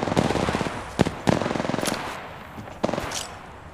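Rapid automatic gunfire from the Apex Legends Mobile video game crackles in dense bursts with a few sharper single shots, loud and close, with no talking.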